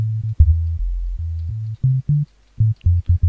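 Synthesized sub bass in FL Studio made for tech house and techno, a deep, round tone playing short rhythmic notes and held notes with brief gaps, alone with no talking.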